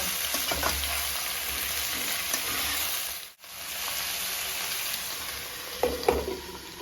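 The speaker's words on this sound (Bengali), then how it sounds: "সবজিগুলো একটু নেড়ে নেব তোলাতে যেই সবজিগুলো আছে পেঁয়াজগুলো আছে এর সাথে মিক্স করে নেব" Chopped vegetables and onions sizzle steadily in a hot pan, with occasional scrapes and clacks of a spatula stirring them and a brief dip in the sound midway.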